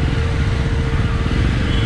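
A 2021 Jawa Forty Two motorcycle ridden through light traffic, its engine giving a continuous close rumble with wind noise, heard alone for about two seconds.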